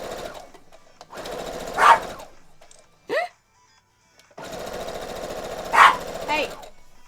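A dog gives one short, sharp bark at a cat indoors, heard between loud, droning bursts of a sewing machine stitching a quilt.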